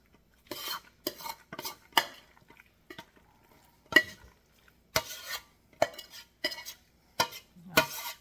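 Macaroni and cheese scraped from a pan into a very large casserole dish, a series of short metallic scrapes and clinks in an irregular rhythm, close and clear, with quiet pauses between strokes.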